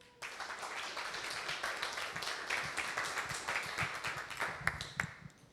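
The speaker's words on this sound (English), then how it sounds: "one big round of applause for Chris" Audience applause and clapping at a SaaS conference session in a hall, a steady round of many hands lasting several seconds with a few sharper claps near the end, no talk over it.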